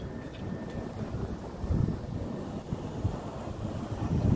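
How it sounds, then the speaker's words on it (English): Blizzard wind blows outdoors in Buffalo, heard as a continuous low rumbling roar with gusty surges and buffeting against the microphone, moderately quiet overall and with no talking. "That wind blowing pretty good."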